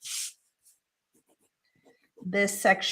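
A pen marks a big X on paper while a handmade coin envelope is made, a short loud scratch at the start followed by near silence, then a voice speaking at the end.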